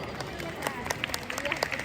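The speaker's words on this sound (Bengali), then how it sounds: "একটা জোরে করতালি হোক।" Audience applause for young performers at a children's recital, a patter of scattered claps from a modest crowd, fairly close, mixed with murmuring voices.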